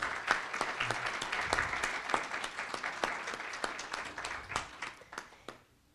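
Audience applause for a panel speaker at a public forum on victims of violence: a crowd of clappers beating out a steady, fairly close patter that gradually thins and stops abruptly near the end.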